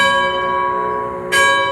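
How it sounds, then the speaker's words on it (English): The bell of a 1906 steam locomotive rings out loud and near, one sustained metallic tone decaying before a second clear strike sounds. "his job was to ring the bell."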